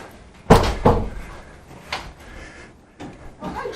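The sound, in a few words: front door opening and closing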